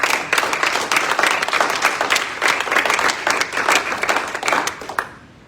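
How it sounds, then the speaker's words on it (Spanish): A church congregation applauds during a sermon, steady dense clapping at moderate level that carries on for several seconds before stopping abruptly. "Denle un aplauso al Señor."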